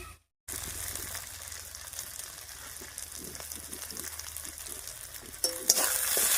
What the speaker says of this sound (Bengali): লবণ হলুদ দিয়ে একটু নাড়িয়ে নিলাম।